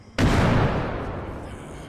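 A frag grenade goes off in a military video game: one sudden loud blast that rolls on and slowly fades across the rest of the moment, with no talk over it.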